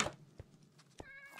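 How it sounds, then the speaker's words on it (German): Cats meowing in the Minecraft video game, a few short, quiet mews spaced apart over a brief moment, the last one longer and more tonal, with no talking. "überall wieder Katzen!"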